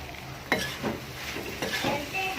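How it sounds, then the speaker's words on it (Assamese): A spoon stirs jaggery into jujube pickle in a pan, a few scraping strokes and soft clinks against the metal over a low sizzle. "এতিয়া এই গুড়খিনি দি লৈ ভালদৰে লৰাই দিব লাগিব।"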